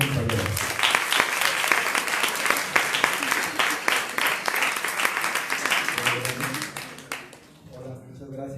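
A conference audience gives loud, sustained applause to welcome a speaker, steady clapping that tapers off at the end as a voice begins.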